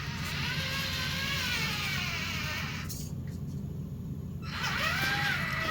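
Small JJRC C8823 RC Unimog toy truck grinding uphill, a steady whining electric motor and gear hum that briefly cuts out and then resumes, close and fairly quiet.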